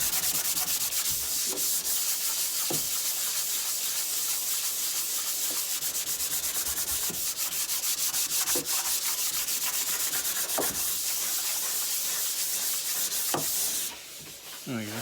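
Steady hand sanding of wax-filled wood with light grade sandpaper, continuous close rubbing strokes that run almost unbroken and then trail off near the end.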